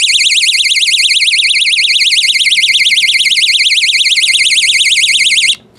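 A battery perimeter tripwire alarm blares, a very loud, rapidly warbling high electronic tone held steady for several seconds before cutting off abruptly into quiet.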